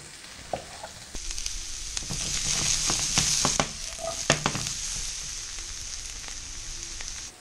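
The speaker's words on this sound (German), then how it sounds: "Solange das Gemüse brät" Vegetables frying in a pan as the base for a goose leg sauce: a steady sizzle with scattered crackles and clinks of stirring, swelling in the middle and settling again, close up and heard alone.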